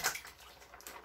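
Chile verde sauce is dumped into an Instant Pot holding a little water, a brief soft slosh and splatter at the start that fades into quieter wet dribbling.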